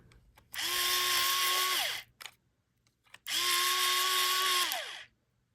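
Electric pencil sharpener grinding coloring pencils in two separate bursts of about one and a half seconds each, a loud close whirring hum that winds down at the end of each, with a quiet pause between.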